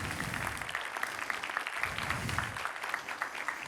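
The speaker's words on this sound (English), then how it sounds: "the applause is fully deserved" Applause after a conference talk on contract assertions for security and safety, a soft, distant wash of many hands clapping, steady and fairly faint throughout.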